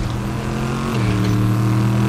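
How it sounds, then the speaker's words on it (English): The engine of an SUV driven by another player in Fortnite, a loud, steady drone whose pitch drops a step midway as it keeps running, with no talk over it. "Hey, they're driving my truck, or my SUV."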